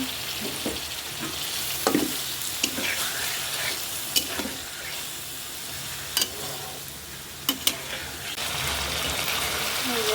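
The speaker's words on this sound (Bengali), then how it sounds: "মাছ আর মশলা এভাবে কষিয়ে নিচ্ছি।" Tengra and shing fish stir-fried with cumin paste and a splash of water in a pan, giving a continuous wet sizzle broken by repeated sharp scrapes and taps of the stirring spoon, close by.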